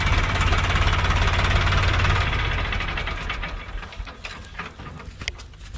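A Sonalika DI 47 RX 4WD tractor runs loud and close in sand dunes, its engine giving a heavy knocking drone that eases and thins as it settles, with no talk.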